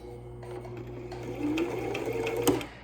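Sewing machine straight-stitching across a lanyard, a quick run of close mechanical stitch chatter with a brief reverse and a final clunk as it stops, heard alone.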